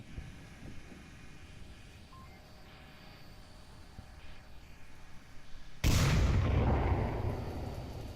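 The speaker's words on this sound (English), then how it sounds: "throws the grenade up through the window" A grenade goes off in a video game after being thrown up through an upstairs window, a sudden loud blast that follows several seconds of quiet ambience and then tails off in a broad rumble.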